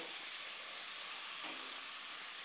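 Chopped onion frying in a pan on margarine for fried rice, a continuous dense hiss of sizzling fat, steady and close throughout with no voices.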